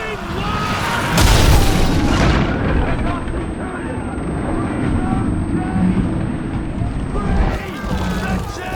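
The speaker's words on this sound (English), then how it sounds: "Incendiaries incoming!" Incendiary projectiles strike a Roman fleet in Ryse: Son of Rome: heavy booms and rumbling impacts roll on continuously, with a big loud hit early on and a thick battle din beneath distant shouting.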